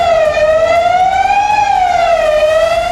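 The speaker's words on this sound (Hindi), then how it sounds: "सायरन बजाकर अलर्ट की सूचना दी गई।" A flood-warning alert siren sounds loud and continuous at riverside ghats after a glacier disaster in Chamoli, Uttarakhand, its tone rising and falling slowly in a steady wail with no other sounds.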